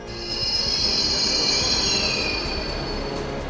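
Delhi Metro train running on its rails, a steady loud rumble with a high wheel squeal rising and fading over a few seconds, continuous with no talk.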